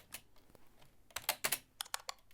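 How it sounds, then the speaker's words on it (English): Fingers type on a computer keyboard in short, uneven bursts of crisp clicking keystrokes, sparse at first and then denser, close and fairly quiet, with no voices. "We got her typing on the keyboard."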